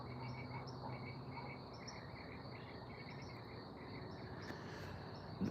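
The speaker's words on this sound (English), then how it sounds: "listening to the crickets chirp, listening to the frogs." Crickets chirp in a steady high pulse while frogs call in the background of a quiet outdoor night, a continuous faint chorus with no voices.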